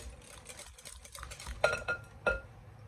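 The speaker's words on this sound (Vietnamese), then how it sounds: "Mình khuấy cho đường với trứng nó tan đều ra hết luôn." Whisk or spoon stirring warm eggs and sugar in a metal bowl, a scraping swish with a few sharp clinks against the side, close and fairly quiet.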